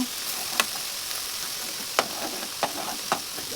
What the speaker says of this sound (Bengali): দুইটা ডিম একটু ভেজে নিব